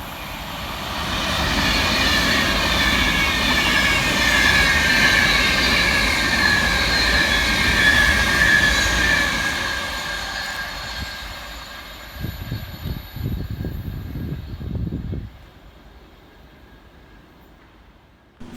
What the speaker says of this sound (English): flying fast through the station for East Midlands Railways 158813 and 158864